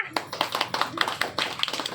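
At a haldi-kumkum gathering in an ashram, a small group claps hands in a quick, slightly uneven rhythm. The claps sound close and moderately loud, with faint voices mixed in.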